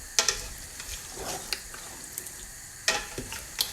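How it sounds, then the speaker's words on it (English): Beef curry with onions being stirred in a pan, sizzling faintly with a few sharp utensil scrapes and clacks against the metal, close by with no talking. "Now I'm going to mix everything around."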